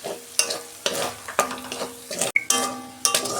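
Ground cumin and other spices frying and being stirred in hot oil for a home-style vegetarian dish, with a steady sizzle and repeated scraping stirs at a close, moderate level.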